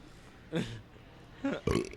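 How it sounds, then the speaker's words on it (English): A person lets out a couple of short, close belches after drinking bitters, each a brief guttural burst separated by quiet pauses. "that was a bitters burp"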